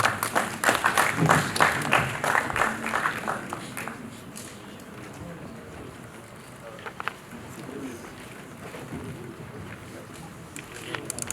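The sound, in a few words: audience applause for a conference speaker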